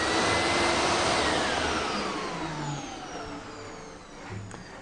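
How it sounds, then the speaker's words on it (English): A Pure i6 industrial steam and vacuum cleaner runs with a loud, steady high-pitched suction whine and airflow roar close by, its pitch gliding slowly downward as it winds down, with no talk. "has a vacuum part here, which plugs into the vacuum part of the machine"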